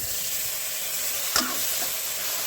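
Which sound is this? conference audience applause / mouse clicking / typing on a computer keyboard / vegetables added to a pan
vegetables added to a pan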